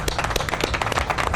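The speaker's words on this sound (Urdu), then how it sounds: "ان سب کے لیے تالیاں بجائیں" Applause for the PHA gardeners at an outdoor tree plantation drive on a hot day, with scattered crowd clapping mixed with speech and ambient noise throughout.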